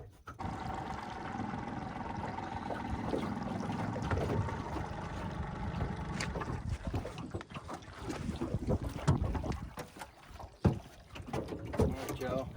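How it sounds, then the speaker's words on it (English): Strong wind buffets a fishing boat on the water, a steady rushing roar and microphone rumble with knocks and creaks from the hull and gear growing busier toward the end. "The boat's going crazy with this wind today"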